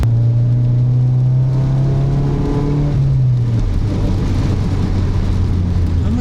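Car engine with a chambered resonator exhaust, idling close by with a steady low drone, then dropping to a slightly lower rumbling pitch partway through, loud and alone with no talk.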